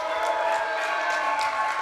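A wrestling crowd at an East Coast Pro Wrestling show cheers and claps in a steady, moderately loud wash, with scattered claps standing out from the sustained noise.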